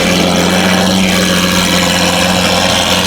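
A Lamborghini SVJ with a straight-piped Gintani F1 exhaust idles loudly close by with a deep, steady exhaust drone that holds without pause.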